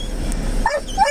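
A dog barks outdoors in a short burst of a few sharp, yelping calls, moderately distant, over low background noise.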